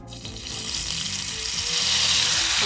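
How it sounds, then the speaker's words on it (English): Loud hissing sizzle of balsamic vinegar hitting a hot pan, a steady bright crackle that swells slightly over a few seconds, no voices. "So that really sizzles up."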